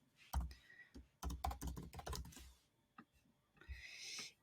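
Fingers type on a computer keyboard close by, quick bursts of light key clicks in uneven clusters with short pauses between, fairly quiet and with no talk.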